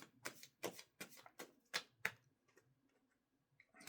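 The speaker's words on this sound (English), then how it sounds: "Let's do a quick little shuffle," Tarot cards being shuffled in a quick series of crisp riffling bursts, about six distinct flutters close to the mic, then trailing off into faint taps and near silence.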